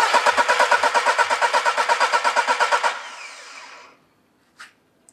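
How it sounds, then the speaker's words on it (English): Engine cranking on a starter during a cylinder compression pressure test with a 0–300 bar sensor attached, a loud rhythmic chugging of about twenty even strokes, then winding down into a fading whir and a brief click. "And I can crank the engine."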